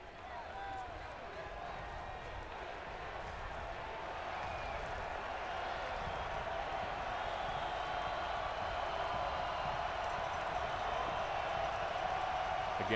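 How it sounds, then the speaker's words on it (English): Stadium crowd at a college football game between Stony Brook and South Florida, a broad distant roar that swells gradually and holds steady, with a commentator's voice talking over it. "Again, the crowd creating some noise along that goal line."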